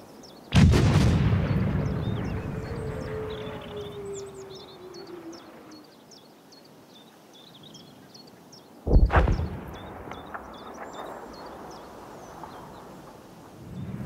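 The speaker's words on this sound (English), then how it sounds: "This huge gun shoots out a shell. You can see it moving across the sky and then it just explodes in the distance." In Battlefield 1, a huge gun fires a shell with a deep, booming blast whose rumble fades over several seconds, then a second heavy distant explosion hits. Faint bird calls chirp in the background throughout.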